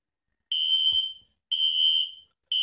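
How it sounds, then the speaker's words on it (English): Spectre Alert Classic fire alarm sounding in loud, piercing electronic tone bursts, each about three quarters of a second long, repeating roughly once per second with short silent gaps between. "Das ist Spectre Alert Classic. But it's ringing."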